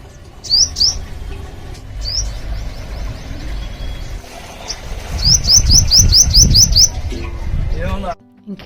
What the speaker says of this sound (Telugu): ఇక్కడ ఈ పక్షి అయితే చూసారా